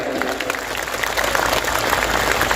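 Audience at a live Islamic religious gathering in Kaliwungu, Kendal, applauding in a dense, steady burst of clapping that grows slightly louder, with a low rumble beneath.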